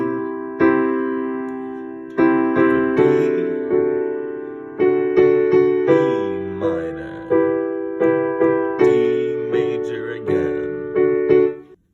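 Piano chords played one per beat in a steady progression, each struck cleanly and left to ring before the next, with no talking.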